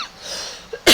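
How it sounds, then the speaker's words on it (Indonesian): A single short cough from a teacher during a geography lesson, loud and abrupt, bursting out at the very end after a stretch of quiet room tone. "Batuk."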